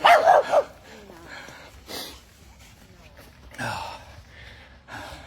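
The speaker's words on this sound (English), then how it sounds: "Here's the little doggy coming along." A small dog lets out a sharp, high yap up close, then whimpers and snuffles faintly while a person speaks quietly in between.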